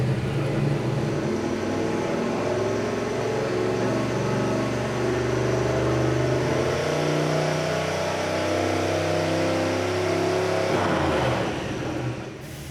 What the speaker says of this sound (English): it's time to make our first dyno pull